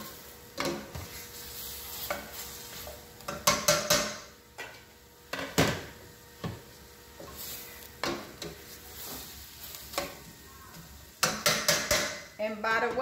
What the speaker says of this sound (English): I'm about to add my beans to my seasoning